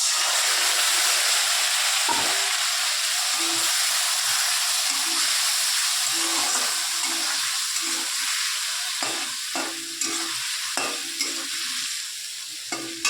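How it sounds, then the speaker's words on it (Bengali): Potatoes frying in a pan with ginger, cumin and green chilli, a steady loud sizzle with repeated scraping stirs of a spatula, close and continuous throughout with no talking. "তো দেখো আলু দিয়ে আর আদা জিরে যে কাঁচা লঙ্কা আছে মশলা দিয়ে কষানো হয়ে গেছে।"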